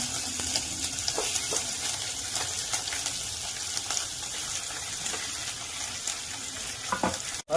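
Loud, continuous sizzling of chicken frying in hot oil with curry leaves and chillies, with occasional stirring scrapes and crackles close by.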